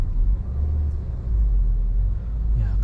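A Toyota Innova Zenix gasoline engine runs at a steady, smooth low rumble, heard from nearby without talk.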